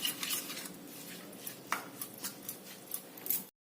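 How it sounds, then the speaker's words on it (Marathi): A spice mixture with hand-crushed cumin is stirred together in a bowl for an eggplant bharit, quiet metallic scraping and light clinks of a spoon repeating irregularly, close and faint with no talk. "हे सर्व मिश्रण छान एकत्र करून घ्यायचं"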